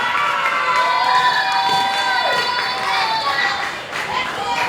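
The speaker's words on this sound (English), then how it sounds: "Let's also give our awesome MCs up here a round of applause" An audience at a school talent show, Kalihi Waena's Got Talent 2025, cheers and applauds the MCs: loud, sustained shouting and whooping, with children's voices prominent over clapping, dipping briefly before swelling again.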